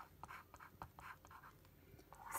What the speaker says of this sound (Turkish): O zaman yazıyorum.